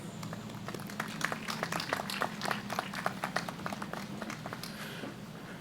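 Applause at a 2021 high school commencement ceremony: a steady wash of many hands clapping from a sizable crowd, sustained and even at moderate distance, with a low room hum beneath.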